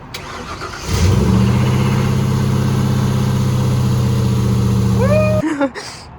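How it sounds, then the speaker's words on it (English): Car engine fitted with a new starter solenoid and starter cranks and catches, then runs at a loud, steady idle for about four seconds before cutting off abruptly. "let's start it up with the new solenoid"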